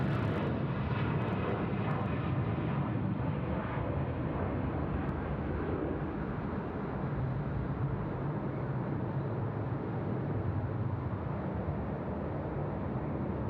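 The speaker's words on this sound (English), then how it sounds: "The A330 rolling 34 left." Sri Lankan Airlines Airbus A330 in special livery rolling for takeoff on runway 34 left at Sydney Airport, a loud, continuous jet engine roar that holds steady throughout, heard from nearby.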